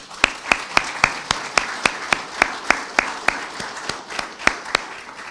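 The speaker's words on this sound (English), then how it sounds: "can we give him a round of applause?" Steady, evenly spaced claps ring out one after another at an athletic hall of fame ceremony, like a single person or small group clapping in a brisk rhythm rather than a full crowd.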